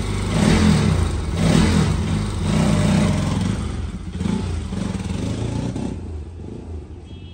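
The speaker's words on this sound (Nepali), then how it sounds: "बाइक स्टार्ट भइसकेको छ होइन।" A Bajaj Pulsar NS 200 motorcycle engine runs nearby after repair, a loud throbbing drone with several rhythmic revving surges that later ease toward a quieter idle.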